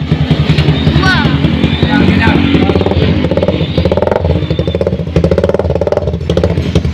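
A Raider FI motorcycle engine revs hard up close, loud and continuous with rhythmic pulsing and sharp popping bursts through the exhaust.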